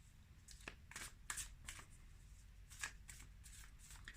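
Tarot cards are shuffled by hand in a quiet room, a run of short crisp riffling bursts with brief gaps between them, close and fairly soft.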